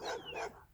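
A dog gives a quick pair of barks or yips, close and fairly faint, lasting under a second with nothing else heard.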